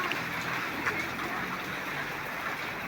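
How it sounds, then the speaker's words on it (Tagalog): Steady rain from a typhoon patters continuously, a soft even hiss of drops on surfaces with no clear voices. "Ingat kasi umuulan, may bagyo."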